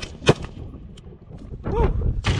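Sharp outdoor rifle shots ring out at a shooting range, a 7.62x39 round, with one crisp loud report early and louder blasts later, each followed by echoing decay.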